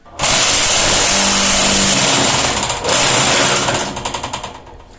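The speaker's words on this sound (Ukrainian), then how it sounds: "Нажимаю верхній вібратор, вмикаю плюс нижній." A concrete block making machine with its upper and lower vibrators running gives a loud, dense mechanical roar. It carries a buzzing hum, swells again midway and ends in a rapid rattling pulse as it winds down.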